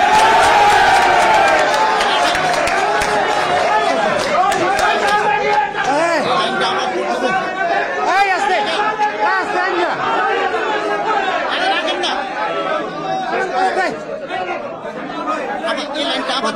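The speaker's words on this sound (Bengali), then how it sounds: "স্লোগান দেন কেন?" A crowd at a Jatiya Party meeting chants political slogans, many loud overlapping voices rising and falling in rough rhythmic bursts, close and continuous throughout.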